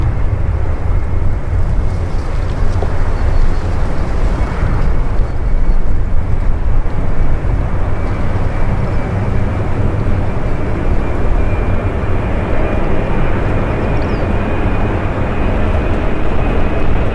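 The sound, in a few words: Boeing 737 taking off with strong headwind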